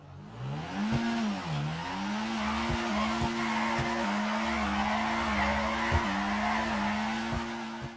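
A car drifting sideways in GTA 5, probably held in second gear, gives a long steady tire squeal, together with a droning engine note that wavers and rises slightly. Brief ticks punctuate the sound, and no voices are heard.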